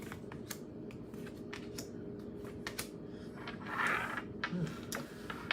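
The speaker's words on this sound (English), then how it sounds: "Already shuffled, but we got to put down the cards." Tarot cards being handled and laid down during a card reading, with a run of crisp, short slaps and rustles scattered over steady low room hum, fairly quiet and close, no voices.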